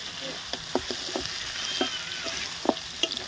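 Pieces of mutton leg sizzle and fry in hot oil in a pan, a steady close crackle broken by sharp spits and pops, with no talking.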